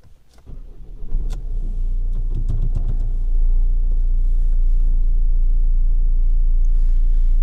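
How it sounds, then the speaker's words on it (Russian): A Volvo V50 engine catches after a few cranking clicks and settles into a steady, low idle rumble that continues evenly, close by and alone. "Решили завести автомобиль и проверить все те же самые показания на заведенном"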